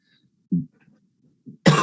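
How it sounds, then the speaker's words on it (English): A person recovering from COVID coughs: two short, muffled throat sounds, then one loud, harsh, close cough at the end, with near silence between. "So I will be coughing a little bit today."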